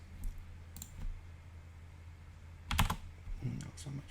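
Keys tapped on a computer keyboard in a few short, quiet bursts of clicks separated by pauses, with a low background hum and no talking.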